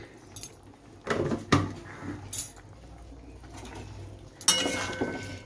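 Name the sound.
stirring sugar into a cooking pot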